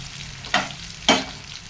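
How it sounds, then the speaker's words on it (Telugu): Chicken pieces frying in a pan for biryani over a low flame, a soft steady sizzle broken by two sharp scraping stirs close by, with no talking. "మనకు బాగా ఫ్రై అయింది. ఇప్పుడు స్టవ్ సిమ్ చేసుకొని"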